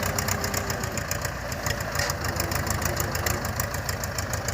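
A small, light tractor without four-wheel drive or differential locks, on peaty ground, runs steadily up close, a continuous rumbling chug with no pauses and no voices.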